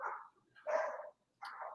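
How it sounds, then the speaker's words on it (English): A dog barks in a backyard, three separate loud barks spaced a short gap apart, heard alone without talk. "There's a dog that's going completely ballistic in my backyard."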